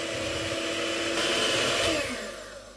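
An electric hand mixer whisks cake batter, with oil being beaten to a mayonnaise-like thickness. The whirring motor runs loud and steady close by, then eases off near the end.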